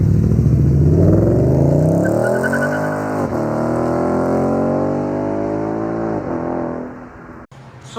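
A 2015 Ford Mustang GT with a 5.0 V8 and long tube headers revs hard, its exhaust rising in a loud sustained climb and holding near, then dropping off abruptly toward the end, with no talking.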